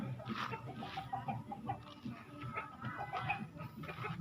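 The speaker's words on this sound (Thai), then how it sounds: "ไก่ที่นี่นะครับ เลี้ยงธรรมชาติ" Several free-range chickens cluck softly and repeatedly nearby on a small farm, a low chattering murmur of hens pecking about.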